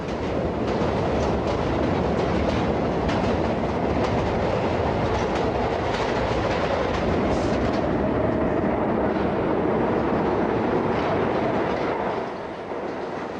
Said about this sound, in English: The train smashed through the dark.